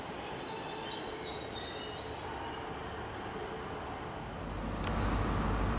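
A Great Western Railway train runs through Exeter St Davids station on a service from Cardiff Central to Penzance, with steady rumbling wheels and rail noise that grows louder and heavier toward the end.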